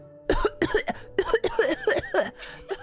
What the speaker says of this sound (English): when she sniffed, it went up her nose and made her cough